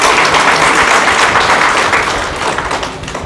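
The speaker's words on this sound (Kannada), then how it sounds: "ಜೋರಾದ ಚಪ್ಪಾಳೆ" Loud, dense applause from an audience at a book release ceremony, a thick wall of clapping that holds strong before gradually thinning toward the end.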